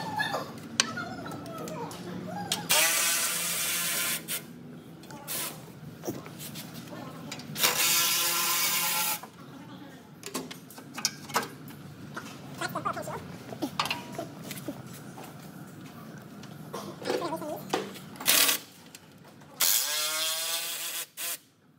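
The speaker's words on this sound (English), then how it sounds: "You're gonna take the two 12 millimeter bolts off of the braces closest to the front of the vehicle" A ratchet wrench works the 12 mm bolts off the front underbody braces of a Toyota 4Runner, with repeated bursts of fast clicking between quieter pauses and small metallic knocks, close by.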